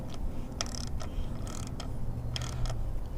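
A torque wrench clicks and ratchets in short bursts while bolts are tightened during a Screamin' Eagle Stage 1 Performance Rail air cleaner install on a Harley-Davidson, close and fairly quiet, with several quick mechanical clicks.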